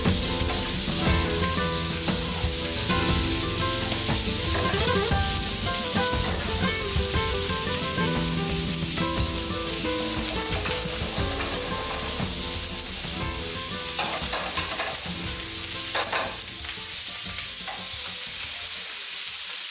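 Vegetables crackle and sizzle loudly in a hot pan as they char and wilt for Spanish tapas, a dense continuous hiss with stirring scrapes, close up and free of speech.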